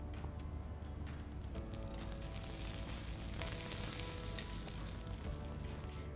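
Bottle gourd thepla flatbread fries in oil in a pan, giving a steady close sizzle and crackle that holds throughout and grows a little brighter midway, with no voices.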